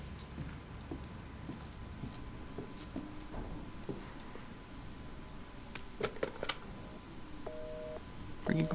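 Telephone dialing tones at the start of Resident Evil 7, a few short electronic beeps and clicks near the end over a quiet, murky game ambience.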